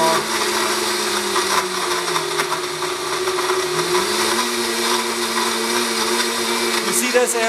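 A blender runs steadily on speed two, whirring a thick smoothie of almond butter and eggshell in a large 45-ounce jar, loud and continuous with a slight dip in pitch midway as the load shifts.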